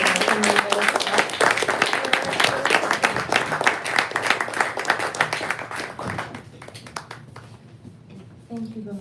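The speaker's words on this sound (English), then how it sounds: "Let's give one more round of applause to our poets" An audience at a poetry reading claps warmly for the poets for about six seconds; the clapping then thins out and a speaker's voice comes in near the end.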